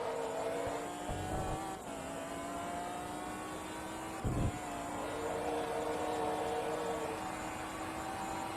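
Race cars drafting one another in Forza Motorsport 2 during an endurance race at Sunset Peninsula Grand Prix, with steady droning engine tones and two brief whooshing passes rising above the hum.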